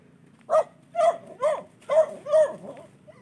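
A dog nearby in a storm-hit area gives five short, evenly spaced barks. Soft yelps trail between them over quiet background noise.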